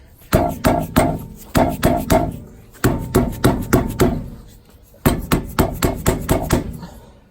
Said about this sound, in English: we're going to try to hit the tire from the front first, see if we can free it up